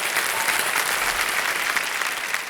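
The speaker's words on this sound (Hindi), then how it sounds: "तालियां बज जाए इनके लिए" A studio audience on the Shark Tank India Season 2 set claps steadily to welcome Vineeta Singh and Aman Gupta, a close, even wash of applause with a faint voice underneath.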